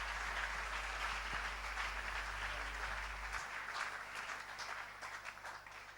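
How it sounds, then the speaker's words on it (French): A church congregation applauding during a prayer gathering, a steady dense wash of clapping from many people, sustained and fairly loud throughout with no one speaking. "Est-ce qu'on peut ensemble acclamer le Seigneur notre Dieu?"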